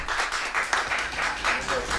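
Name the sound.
audience applause for a poet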